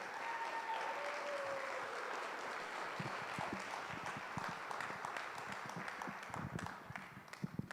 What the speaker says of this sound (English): Let's give these young ladies a great round of applause.